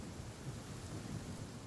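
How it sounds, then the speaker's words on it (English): Heavy rain pours down in a Genshin Impact storm, a dense, even hiss with a low, faint rumble of thunder rolling underneath, steady and quiet throughout with no voices. "Why is it raining so hard?"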